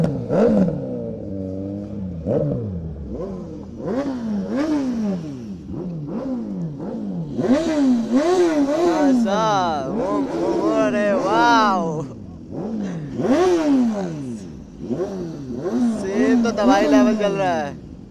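Superbikes on a Sunday group ride in Lucknow rev their loud exhausts again and again, rising and falling engine tones close by with talk over them.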